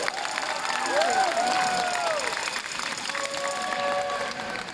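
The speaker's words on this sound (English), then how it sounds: "let's clap it up for Dr." An audience at a talk on longevity biomarkers applauding the speaker, with steady sustained clapping from a crowd, some cheering, and voices talking over it.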